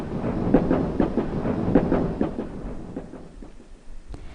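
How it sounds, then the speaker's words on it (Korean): Inside a moving train carriage, a steady low rumble with rhythmic rattling and clunks from the wheels on the tracks runs throughout at a constant level, with no one speaking. "기차 안은 여전히 덜컹거리는 소리로 가득했다."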